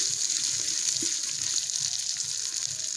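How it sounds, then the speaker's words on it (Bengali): Water running steadily into a pot of khichuri made with Gobindobhog rice and fried moong dal, a continuous soft pouring gush close by. "এখন দিয়ে দেব পরিমাণ মতো জল"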